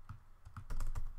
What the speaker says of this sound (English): I'll just type in my name